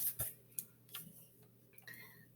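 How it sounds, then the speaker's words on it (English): A ticking clock heard as several faint, irregular ticks, brief sharp clicks spaced over about two seconds, standing alone without any speech. "The tick-tock clock."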